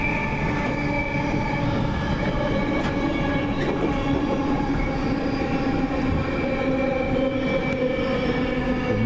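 A train in Cambridgeshire rumbles along steadily with continuous rail noise and faint clattering, heard from inside, with no voices.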